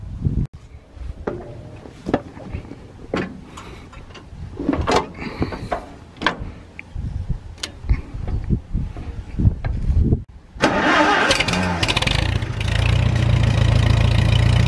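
A 1950 Farmall M tractor: irregular clunks and rattles, then the engine catches about two-thirds through and settles into a loud, steady close-up running drone, no speech.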